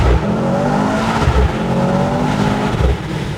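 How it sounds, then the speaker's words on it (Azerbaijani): A Mercedes-AMG C63 S E Performance F1 Edition with a four-cylinder engine downshifts, its loud engine note dropping and surging in two or three close, blipping revs. "Hətta bir dənə də downshift səsi dinləyək."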